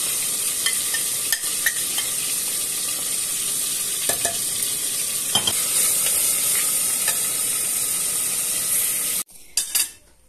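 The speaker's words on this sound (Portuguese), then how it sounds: "Cheirinho bom do alho, ó, quando frita assim." Garlic sizzling and frying steadily in very hot fat in a pan, a continuous bright crackle with occasional stirring clinks of utensils, ending abruptly near the close.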